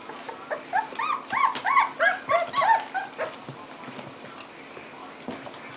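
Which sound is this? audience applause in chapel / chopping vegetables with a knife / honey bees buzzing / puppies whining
puppies whining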